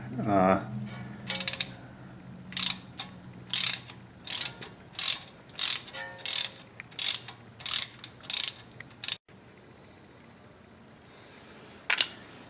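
Ratchet clicking on a 5 mm hex key as it loosens an ABS sensor bolt on a Trailblazer or Envoy steering knuckle, with about a dozen quick bursts of close metallic ratcheting in a steady rhythm, then quiet and one last short click.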